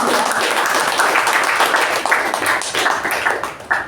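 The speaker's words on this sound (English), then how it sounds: "So just a round of applause for that." An audience at a Toastmasters club meeting applauds, with a dense burst of clapping that stays fairly loud throughout and tapers slightly near the end.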